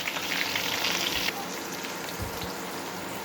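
Diced eggplant frying in oil with garlic tempering gives a dense, close sizzle that shifts as the pieces settle, broken by a couple of low thuds from the pan.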